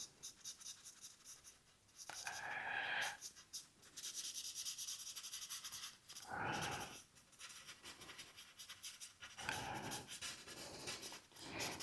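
A graphite pencil shading stone surfaces on a 3D illusion drawing on paper, giving bursts of scratchy, rhythmic strokes close up with short pauses between passes and no talking.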